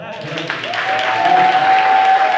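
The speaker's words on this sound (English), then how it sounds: "So on that, clap it up, clap" A live audience claps at a 100th-episode show taping, dense applause that builds in volume, with cheering and a high whistle-like tone running over it.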